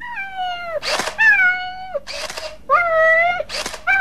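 A cat meows several times in a row, clear and close, each drawn-out cry separated by short breathy pauses.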